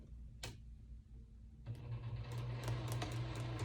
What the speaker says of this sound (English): All right, so here I go. I'm going to sew,